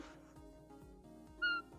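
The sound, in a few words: cat meowing in a video game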